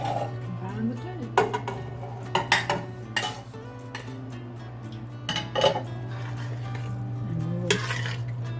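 A spoon scrapes and clinks against a pot as cooked rice is folded into a pea mixture with a little liquid left in it, making intermittent metallic knocks over a steady low hum, with a voice in the background.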